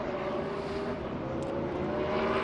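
A NASCAR Cup Series race car at full speed on a qualifying lap, its engine a steady, sustained roar with no pauses or talk.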